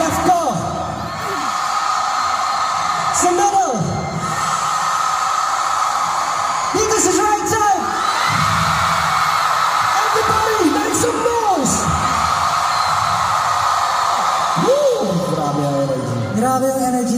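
A large arena crowd at an SB19 concert in Singapore screams and cheers in a loud, sustained roar, with rising whoops and yells swelling in several waves throughout.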